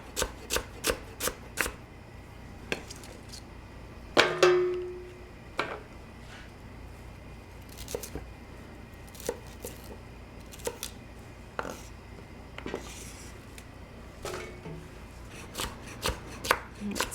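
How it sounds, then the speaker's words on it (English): A knife slices through a halved broccoli stem on a cutting board, producing a long run of crisp, evenly spaced chops close up, with a brief louder clatter partway through and no talking. "put it side by side, and just do some nice slices."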